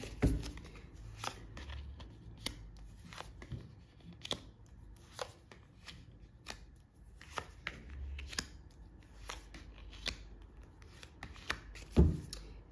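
Tarot cards are shuffled by hand in a quiet room, giving a run of soft, irregular flicks and riffles spread over several seconds, close and faint, with no talk.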